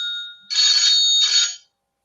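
A mobile phone rings with two bright electronic tone bursts, close and loud, during a dog-show judge's conversation, then cuts off into silence.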